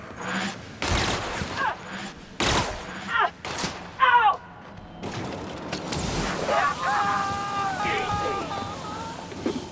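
Gunfire from The Outer Worlds video game: several sharp, loud shots and bursts crack out in the first half, mixed with combat noise and overlapping voices.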